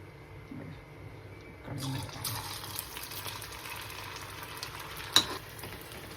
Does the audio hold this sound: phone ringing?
no